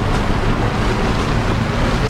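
Race car driven in the rain in Assetto Corsa Competizione, a loud steady roar of engine and spray-like hiss filling the whole moment without pause.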